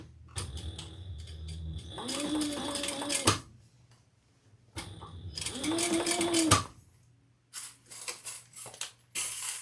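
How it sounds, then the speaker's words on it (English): A sewing machine runs back over earlier stitching on a Jasmine handbag in two short, rapid bursts of clattering stitches separated by a pause, close and fairly quiet. "I'm going to go over the previous stitching that is there."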